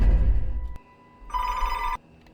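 A telephone rings in a horror video game, a bright electronic trill cutting off after about a second, following a low rumble and soft ambient tones.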